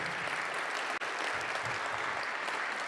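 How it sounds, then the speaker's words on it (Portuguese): Audience at a mining innovation summit gives a round of applause, a dense, even wash of many hands clapping from start to finish with one momentary dip, no speech over it. "salva de palmas."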